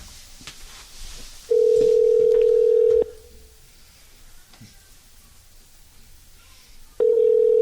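A telephone ringback tone sounds as a prank call is placed, with two long, loud, steady beeps separated by a quiet pause over faint background hiss.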